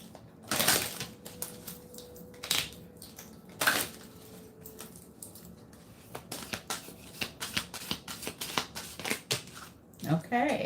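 Angel cards are shuffled and drawn at close range, giving irregular bursts of riffling and soft slapping clicks that are quiet and separated by pauses.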